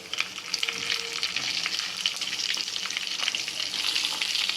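Stuffed chillies and cumin seeds frying in hot oil give a steady, close sizzle and crackle with small spitting pops throughout, no voices over it.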